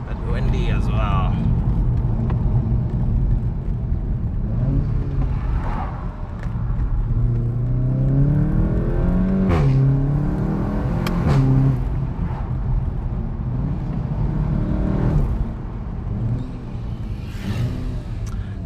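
Engine of a 2016 VW Golf GTI Clubsport under way, a steady rumble rising and falling as it revs through gears, with someone talking over it and some wind noise.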